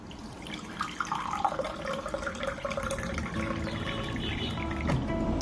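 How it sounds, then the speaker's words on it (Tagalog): Two cups of water pour steadily into a cooking pot for a vegetable soup, a continuous splashing, gurgling stream at close range that holds fairly even throughout with no talking. "lagyan natin siya ng 2 tasang tubig para maisabaw tayo"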